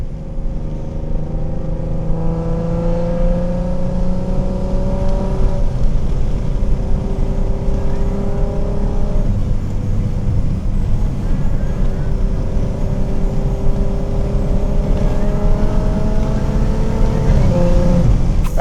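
A big-turbo tuned BMW 340i engine accelerating hard, loud and close from inside the car, its drone climbing steadily in pitch through two long gear pulls with a brief drop at the shift.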